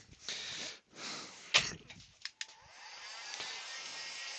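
A dryer blows short bursts of hot air over a freshly turned wooden piece in a woodturning workshop, airy hissing that starts and stops several times, close and fairly quiet.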